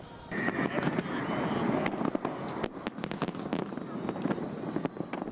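New Year's Eve fireworks bang and crackle over a harbour in a rapid, irregular series of sharp bursts over a broad, steady crowd-and-air rumble, fairly distant and loud.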